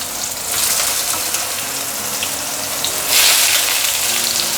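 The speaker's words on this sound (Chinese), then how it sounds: "现在把豆包翻面。" Tofu skin frying in oil in a pan gives a steady sizzle that swells louder around the three-second mark, with no voices.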